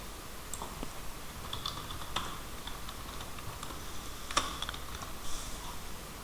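Someone types lorem placeholder text on a computer keyboard. Quiet, close keystrokes tap out in an uneven rhythm, with a few sharper clicks standing out above a hushed room.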